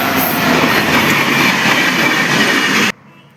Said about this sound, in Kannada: ಸೊ ಇಲ್ಲೊಂದು ರೈಲು ಕೂಡ ಹೋಗ್ತಾ ಇದೆ